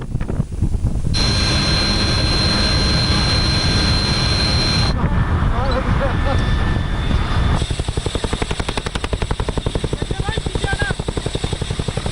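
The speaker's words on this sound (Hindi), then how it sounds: "देखिए किस तरीके से फॉरवर्ड एयरबेस से वायुसेना के अपाचे हेलीकॉप्टर्स नाइट ऑपरेशंस को अंजाम दे रहे हैं।" Air Force Apache helicopters operating from a forward airbase at night, a loud, steady roar of engines and wind with a fast, rhythmic rotor thump that grows more pronounced in the later part, with no break throughout.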